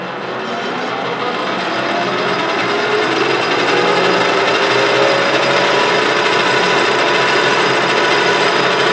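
A metal lathe cuts a gearbox shaft with a radius tool, giving a loud, steady, harsh whine and rasp of chatter that builds slightly and runs continuously without talk.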